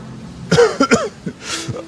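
A man with a cold and fever coughs a few times in quick, close, harsh bursts, with no talking.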